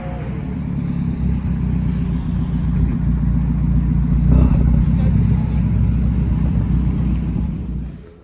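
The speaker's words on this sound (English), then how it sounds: "Got Ramy pulling up" A car rolls up close by with a steady, loud low engine rumble that swells slightly midway and then cuts off at the end, while tires are being fitted to a JDM MR2.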